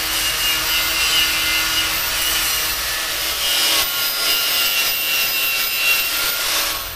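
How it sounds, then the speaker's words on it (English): A wire wheel scrubs old material off a valve cover, giving a steady, loud, harsh abrasive rasp that runs unbroken for the full length with small swells in intensity. "we're gonna take a wire wheel and get all of this off of here"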